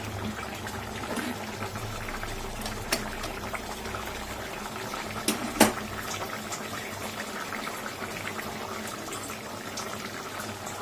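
A pot of jackfruit and prawn gravy simmers on the stove, giving a steady low bubbling with a few soft clinks, moderately close and without talk.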